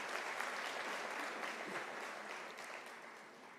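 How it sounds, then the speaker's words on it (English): A crowd claps in a steady, dense round of applause at a University of South Africa autumn graduation ceremony, heard fairly faint and gradually tapering toward the end. "Can we give a round of applause to that?"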